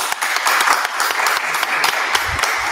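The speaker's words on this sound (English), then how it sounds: "Please give her a round of applause." An audience applauds steadily to welcome a panelist onto a stage at a university Black History Month event, dense clapping sustained at even loudness throughout, with no one speaking.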